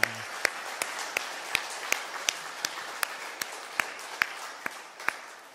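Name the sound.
church congregation applause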